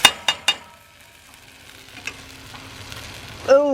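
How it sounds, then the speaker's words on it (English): Hash fry potatoes with sausage stirred in a pan, three sharp utensil knocks at the start, then a soft low sizzle with an occasional scrape and a metallic lid rattle at the very end. "Make sure we get it stirred good."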